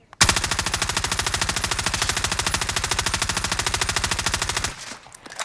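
A Pharah assault rifle fires in console Warzone: one long, unbroken full-auto burst of rapid, evenly spaced loud shots lasting about four and a half seconds, then a brief tail.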